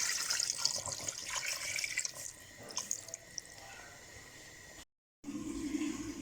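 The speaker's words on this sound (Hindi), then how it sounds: "तो अब हम पानी डाल के इसे 15 मिनट के लिए" Water is poured into a pot of fried mutton for karahi. A steady close pour rushes and splashes, then fades, followed by a brief cut to silence and a short bit of low cooking noise.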